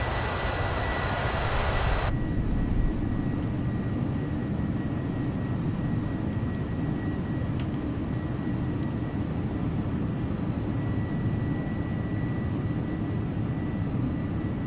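Steady broadband roar of a Mexicana Airbus A318 in climb over mountains in MSFS2020, a continuous cabin engine drone with an extra hiss in the first two seconds, no talk.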